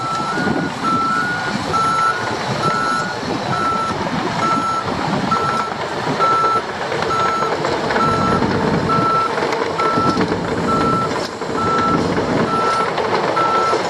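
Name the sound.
bulldozer reversing with backup beeps at construction site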